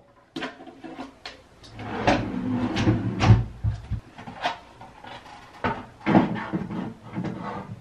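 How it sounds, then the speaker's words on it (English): A bottom drawer in a bathroom storage unit is pulled open, making a run of close wooden scrapes, knocks and rattles in several bursts over a few seconds, with no talking. "I guess let's start with the bottom drawer."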